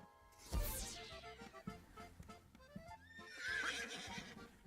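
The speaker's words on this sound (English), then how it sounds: "The horse is here." A horse gives a loud, shrill whinny that rises and falls, followed by snorts and some hoof clip-clop, then a second neigh near the end, all close and clear.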